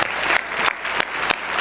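Audience applause at a high school scholarship awards night, steady dense clapping from a seated crowd with a few sharp bursts, loud and continuous for under two seconds.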